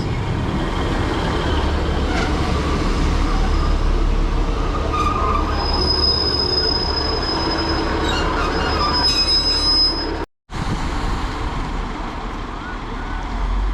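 A Class 150 diesel multiple unit, number 150.250, pulls away on the Welsh Marches Line toward Holyhead, giving a loud, steady rumble with a sustained high metallic whine from the wheels and rails, and a brief drop partway through.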